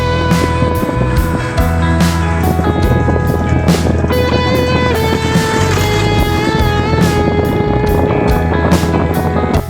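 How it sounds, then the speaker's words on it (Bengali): A motorbike engine drones loud and steady at speed, with a constant whining hum and rushing wind, close by and uninterrupted. "মামা বাইক খুবই জোরে চালায়"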